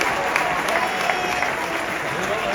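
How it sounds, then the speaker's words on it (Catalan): An audience at a Barça celebration program claps in a brief, steady burst of applause, with a few sharper individual claps standing out. "Un fort aplaudiment per tots."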